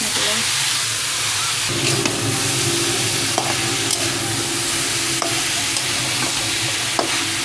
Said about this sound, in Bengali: আমি এখানে এই বাঁধাকপিটা দিয়ে দেবো